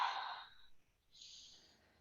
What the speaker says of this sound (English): Go ahead, take a breath here.